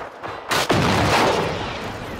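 A single loud gunshot in the open-world robot shooter Generation Zero cracks out close by, followed by a short booming decay and a lingering rumble.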